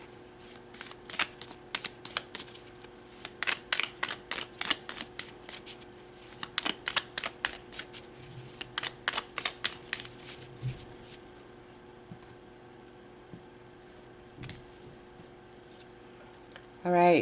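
Tarot cards being shuffled and pulled from a deck, a quick run of crisp, close riffling flicks that taper off into occasional soft card slides and taps, with a quiet background hum.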